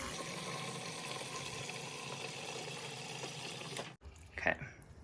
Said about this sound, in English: I'm just going to add some filtered water from my refrigerator.